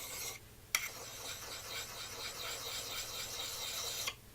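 A Gransfors Bruk Scandinavian Forest Axe is rubbed against a medium sharpening stone with a steady, continuous rasping scrape that runs almost unbroken for several seconds, with a brief pause and a sharp tap early on.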